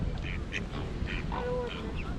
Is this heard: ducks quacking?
yes